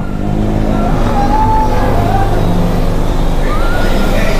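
A motorcycle engine revs and runs at a car wash, loud and close throughout, with a steady droning tone and rising pitch sweeps.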